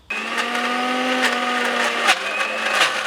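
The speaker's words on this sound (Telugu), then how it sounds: "ఇప్పుడు ఇది మరొకసారి మిక్సీ పట్టుకోవాలి" A mixer grinder whirs loudly and steadily, grinding a fresh coconut spice powder, its motor pitch dipping slightly partway through as the contents are ground.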